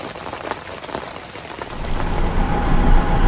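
Steady rain pattering on a tent at a campsite, a continuous wash of drops that swells slightly louder toward the end, with no voices.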